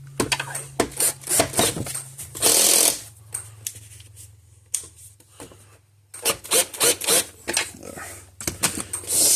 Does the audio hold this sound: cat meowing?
no